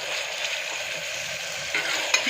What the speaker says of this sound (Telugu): ఆనియన్ని బాగా ఫ్రై చేస్తే పచ్చివాసన అనేది రాదండి